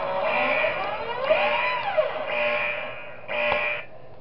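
A wavering electronic alarm tone in the game Five Nights at Wario's Rebooted 2 sounds in repeated bursts, rising and falling in pitch, loud and synthetic, with no talking.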